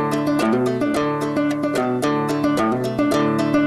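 A song plays as dense, full music with a steady rhythmic pulse and layered tones, loud and continuous with no talk over it.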